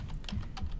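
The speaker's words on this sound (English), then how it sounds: "every time I type something" Keys clatter on a computer keyboard while a document is being typed, giving a quick run of close, crisp taps with no voice over them.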